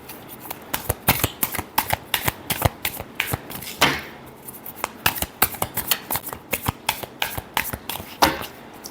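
Tarot cards being shuffled close up, a steady run of crisp riffling flicks and taps with a brief pause midway before the shuffling resumes.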